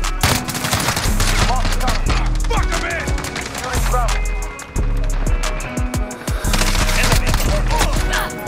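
Automatic gunfire in Call of Duty Modern Warfare with a Galaxy camo variant: loud, rapid bursts of shots repeating in close succession over several seconds, with brief pauses between strings and game sound effects mixed in.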